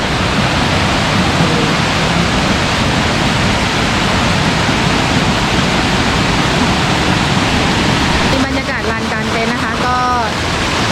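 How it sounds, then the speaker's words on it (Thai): A stream fed by Khlong Lan waterfall rushes in a steady, full hiss beside a forest campsite, continuous and close, with a voice briefly talking over it near the end. "ตรงนี้ก็จะเป็นลำธารนนะคะที่เป็นน้ำตก สายน้ำที่ไหลมาจากน้ำตกคลองลานะคะ"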